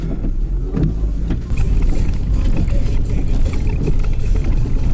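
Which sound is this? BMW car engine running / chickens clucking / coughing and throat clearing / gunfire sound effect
BMW car engine running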